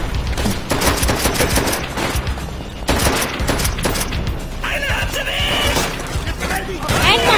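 Rapid gunfire from the player's weapon in Call of Duty: World at War, delivered in loud repeated bursts with shattering crashes mixed in, while someone talks over the action throughout.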